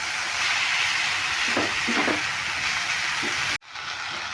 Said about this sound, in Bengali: আলুয়ার গাজরটা খুব ভালো করে একটু কষিয়ে ভেজে নেব